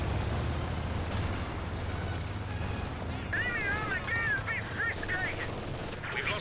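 Infantry strafe gunfire in Company of Heroes 2: rapid bursts of strafing fire and explosions amid dense battle noise, with a commentator's voice partly over it.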